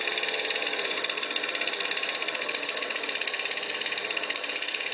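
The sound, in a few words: lawnmower engine running with Geet fuel processor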